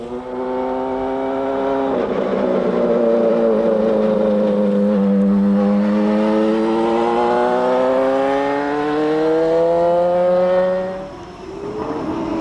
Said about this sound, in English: The familiar bark of the Cosworth engine shatters the still morning.